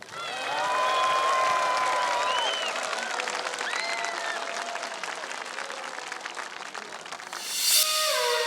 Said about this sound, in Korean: 이제 여러분의 큰 박수와 함성으로